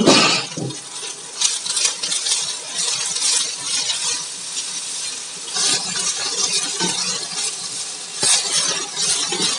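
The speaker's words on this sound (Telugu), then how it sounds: "పచ్చిమిరపకాయలు అలా కొద్దిగా ఆ ఫ్రై అయిపోయిన తర్వాత దాంట్లోనే కొత్తిమీర అండి" Green chillies sizzle in a pan with coriander added, a steady close frying hiss broken by spoon stirring and scraping clinks against the pan, with no talking.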